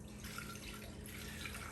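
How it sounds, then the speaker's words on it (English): Hot water pours steadily into the bowl of a Ninja Professional 1000-watt food processor, a continuous faint splashing rush heard close up without any voices. "We're gonna put 1 cup of hot water."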